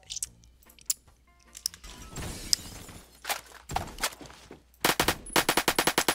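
Rapid bursts of automatic gunfire mixed with crashing, shattering window glass in a first-person shooter match with respawns, loud and close, ending in a fast rhythmic string of shots.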